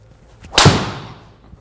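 A single sharp crack as a 48-inch long drive golf driver strikes a ball, loud and close, followed by a fading whoosh.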